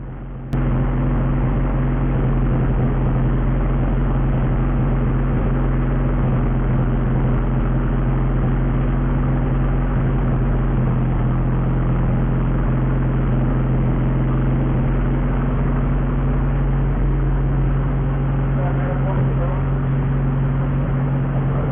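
Honda Civic engine idling steadily while its base idle map is tuned, a constant low hum with a muffled, even drone and no break in the sound.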